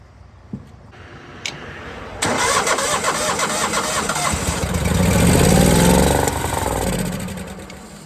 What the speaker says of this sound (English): So I'm gonna go ahead and try and fire it up anyway, just see if we can get it to run.